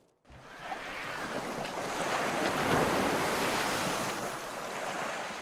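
Ocean surf washes onto a beach, with a sustained roar of breaking waves that swells toward the middle and then eases, heard alone with some wind on the microphone.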